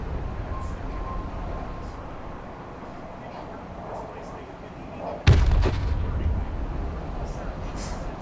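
A tank cannon fires in the Broken Arrow video game: ambient battlefield rumble gives way to one sudden loud boom at range, its low rumble and echoing tail persisting to the end.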